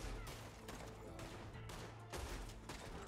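Gunfire in a video game shootout, with rapid bursts of shots cracking in quick succession, faint and distant-sounding, forming a continuous fusillade with brief pauses.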